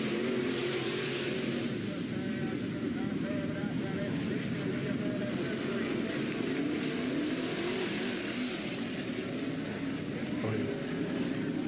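Race cars on a tight little dirt track roar continuously in a dense, loud wash of engine noise with revving swells, heard from trackside.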